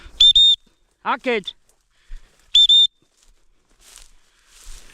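A handheld whistle gives two short shrill blasts, clear and close, outdoors on an evening walk with livestock, with a brief spoken word and quiet rustling between them.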